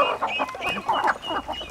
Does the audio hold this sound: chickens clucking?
yes